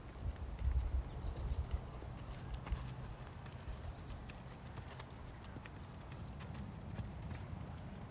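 A horse walks on the ground during ground driving, its hooves clopping in a steady rhythm against a faint outdoor hiss. The sound is quiet and slightly distant, with heavier thuds near the start.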